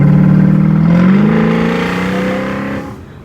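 BMW E92 M3 revving hard with aggressive induction noise, fitted with a custom double X-pipe Valvetronic exhaust; a loud, close engine note that climbs steadily in pitch, then eases off near the end.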